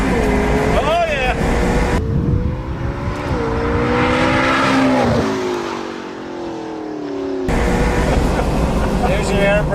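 A 2015 McLaren 650S engine roars under full throttle, its pitch climbing steeply through the revs before easing off, loud and close, with excited voices talking over it.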